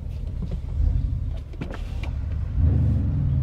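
A standard Mercedes ML63 AMG with its M157 5.5-litre twin-turbo V8 and an aftermarket downpipe gives off a deep, steady engine rumble. Two brief swells rise around the middle and near the end.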